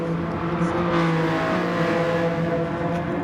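BMW VGT race cars competing in a racing video game at Saint Croix, one in metallic silver and one in Coca-Cola livery, with steady loud engine drone held throughout and no pauses.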